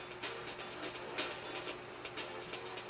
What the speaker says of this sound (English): Can't miss that train.